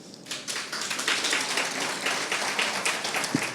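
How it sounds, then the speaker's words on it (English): A room of guests at a book launch gives a round of applause, with brisk, close hand claps building quickly into a steady patter that holds throughout. "I want you to give yourselves a round of applause."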